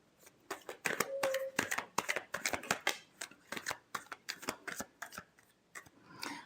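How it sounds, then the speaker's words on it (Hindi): Tarot cards are shuffled by hand in quick, crisp riffling bursts, a rapid rhythmic series of close, light paper slaps with short pauses between them. "Last shuffle."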